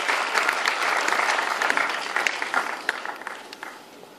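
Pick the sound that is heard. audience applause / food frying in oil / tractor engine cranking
audience applause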